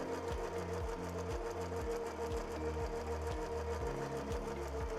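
A 2300SZ direct-drive zig zag sewing machine stitches a rope basket, a fast, steady mechanical chatter with a rhythmic repeating pulse, close and continuous without speech.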